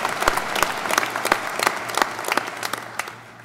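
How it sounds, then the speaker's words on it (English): An audience at a spring 2023 university commencement gives a round of applause, with distinct individual claps over a crowd patter that thins and fades toward the end. "They need a round of applause."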